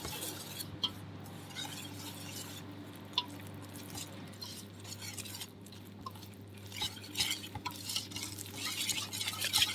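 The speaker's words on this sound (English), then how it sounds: "And now we're gonna stir." A yeast mixture for loukoumades dough is stirred in a bowl, giving a soft, steady swishing with occasional light clinks over a low hum, with no talking.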